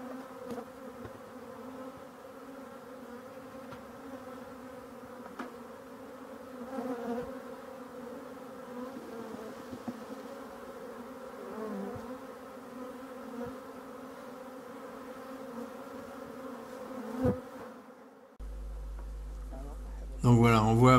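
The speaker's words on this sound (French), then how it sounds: "trop d'abeilles qui bourdonnent" A honeybee swarm buzzes steadily outside a small hive after emerging, probably with a young queen, a dense continuous drone that holds at moderate level throughout, with a few louder thumps and handling noises near the end.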